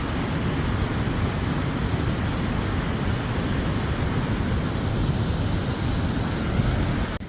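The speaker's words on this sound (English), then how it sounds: "Listen to that water." Low Force waterfall in Bowlees, Teesdale, gives off a loud, continuous rush of pounding water, close and unbroken for the whole stretch with no voices.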